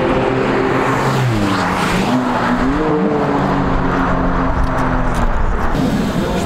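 A Honda Civic drives hard nearby, its engine loud and rising and falling in pitch through gear changes, with a harsh, raspy exhaust and a steady roar throughout.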